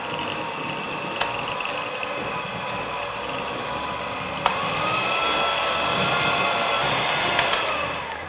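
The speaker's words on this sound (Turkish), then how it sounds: "Şimdi mikserimi alacağım ve ikisini güzelce çırpacağım. İlk önce en az hızda çalıştırıyorum." Electric hand mixer beating butter and powdered sugar for vanilla cupcakes, a steady motor whine that rises in pitch as the speed increases, with a couple of faint clicks.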